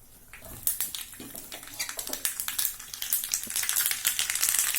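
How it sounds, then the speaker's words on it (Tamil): Mustard seeds tempering in hot oil for a village-style vanjiram fish curry, a rising fizz of crackling pops and sizzle that grows denser and louder toward the end. "அதுக்குள்ளே கடுகு தாளிச்சிக்கலாம்"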